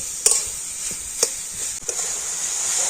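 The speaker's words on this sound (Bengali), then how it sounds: "আর এবার একটু নাড়াচাড়া করলে তো আখের গুড়টা খুব সুন্দর গলে যাবে" Coconut and sugarcane jaggery stirred in a pan, a steady scraping swirl over a constant bright hiss, with three or four sharper knocks of the spoon against the pan.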